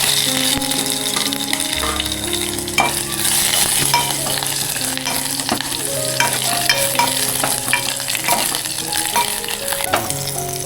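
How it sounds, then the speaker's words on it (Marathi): Cumin, garlic and a ground spice paste fry in oil with a loud continuous sizzle, broken by stirring scrapes and clinks of the spoon against the pan. "त्याच्यामध्ये आपण आता हे वाटण टाकून घेऊया ते चांगलं आपण तेलामध्ये परतून घेऊया"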